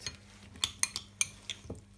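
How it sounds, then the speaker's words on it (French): A spoon clinks sharply against a bowl as olive oil is stirred into a walnut and hazelnut vinaigrette with sherry vinegar, giving a quick series of close, bright metallic taps and scrapes. "Et maintenant, on met de l'huile d'olive. Et on mélange."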